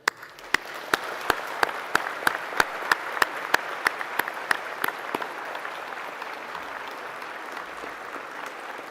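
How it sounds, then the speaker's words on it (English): Applause from a graduation ceremony audience fills the hall steadily for about nine seconds, with a few sharp individual claps standing out early before the sound settles into an even wash of clapping. "Let us give them the applause they so richly deserve."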